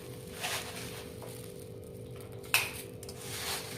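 Puffed rice being tossed and mixed with grated carrot in a bowl by hand, a soft steady rustle with a few light clinks against the bowl, one sharper knock partway through, no talking.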